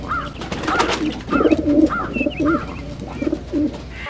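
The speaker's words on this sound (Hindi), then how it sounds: "एक जंगल में एक पेड़ पर कबूतर और कबूतरी का एक सुंदर सा जोड़ा" A pair of pigeons cooing in a forest tree, soft rhythmic coos repeating every half second or so, fairly close and clear over faint background noise.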